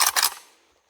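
A single sharp report from a PSA AK103 rifle cracks out loud and close, then decays quickly into a fading echo.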